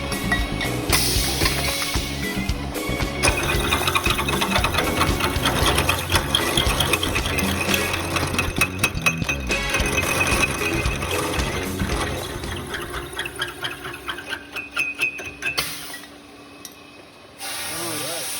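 A shop machine squashing bicycle top tubes for a BTM frame gives continuous loud mechanical ratcheting and grinding with a hissing edge, easing off near the end before a short burst of noise, with voices talking at times.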